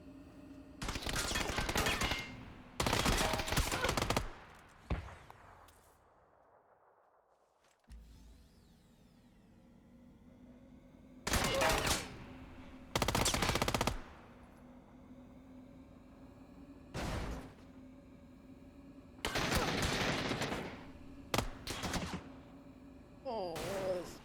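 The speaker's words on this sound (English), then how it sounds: "There are shots here." Video game gunfire rattles in loud, dense automatic bursts, several separated by pauses over a steady background hum.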